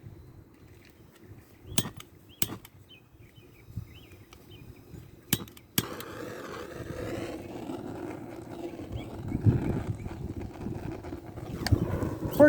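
Wind blowing through an outdoor garden buffets the microphone. A few sharp knocks come first, then a steady, loud low rumble of gusts continues to the end.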